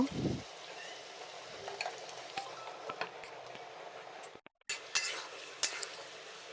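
A roast dish being stirred in a pan, with soft scraping and occasional light clinks of a spoon against the metal over a low, steady background; the sound briefly cuts out partway through.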